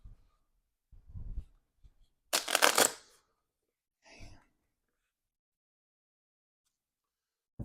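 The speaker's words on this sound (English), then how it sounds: "So give me one more shuffle here." Playing cards are riffled in one quick, loud shuffle at close range, surrounded by soft handling sounds and faint breaths in an otherwise quiet room.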